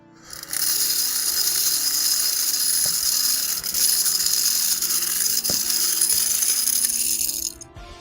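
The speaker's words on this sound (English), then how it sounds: "I'm gonna vacuum up some nubs, so maybe there is some loud sound" A desk vacuum cleaner whines steadily up close for several seconds, with small plastic model kit nubs rattling and ticking as they are sucked up, starting and stopping abruptly.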